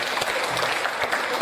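A group of guests claps at an engagement celebration, a short burst of dense, even applause from a nearby crowd.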